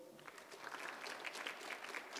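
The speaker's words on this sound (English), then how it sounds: "let's give them a round of applause" Applause from an audience at a democracy conference, a steady wash of many hands clapping, fairly faint and distant, running through the whole stretch without a break.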